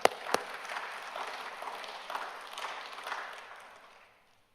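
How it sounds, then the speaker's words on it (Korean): Church congregation applauding in praise of God after a scripture reading, a soft, diffuse wash of clapping with a couple of sharper early claps, steady for about four seconds before fading out. "하나님 영광의 박수 돌리겠습니다."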